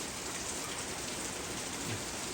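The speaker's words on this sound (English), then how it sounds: "Well, it's raining heavier now." Steady rain pattering on autumn trees shedding their leaves, an even, close hiss of drops with no break and no talking.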